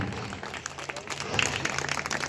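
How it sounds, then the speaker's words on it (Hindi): Audience applause at a Republic Day mallakhamb performance, a moderate, sustained patter of many hands clapping with voices mixed in over it. "करतल ध्वनि नहीं रुकनी चाहिए आपकी।"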